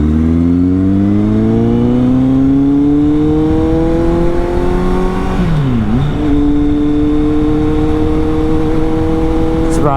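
A Kawasaki Z800 motorcycle fitted with an aftermarket exhaust revs loud and close, its pitch climbing steadily, dipping sharply, then holding a high steady drone, with a voice partly under the engine.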